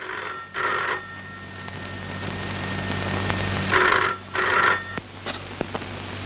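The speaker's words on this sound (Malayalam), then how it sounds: "രജനിക്ക് ഫോൺ വന്നിരിക്കുന്നെന്ന് പറയും." A telephone bell rings in two double-ring bursts over a low background hum, clear and close, with no one speaking.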